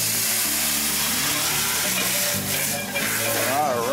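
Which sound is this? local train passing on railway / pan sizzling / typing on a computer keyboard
pan sizzling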